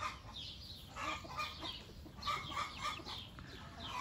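Several chickens and roosters cluck and chatter nearby in a backyard coop, with overlapping bursts of short calls at an uneven rhythm.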